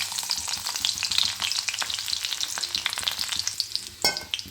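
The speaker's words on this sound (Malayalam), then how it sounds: "കടുക് പൊട്ടി വരുന്ന സമയം കൊണ്ട് നമുക്കതിലേക്ക് വെളുത്തുള്ളി അരിഞ്ഞ് വെച്ചത് ഇട്ട്" Mustard seeds and chopped garlic fry in hot oil, producing a steady close crackle and sizzle with scattered sharp pops from the bursting seeds, plus a brief louder burst near the end.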